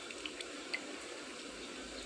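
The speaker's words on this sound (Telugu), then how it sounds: "చూసారా ఒక గ్లాస్ వాటర్" A glass of water is poured into a cooking onion and tomato curry, giving a faint, steady splashing trickle with a few small drips and no talking.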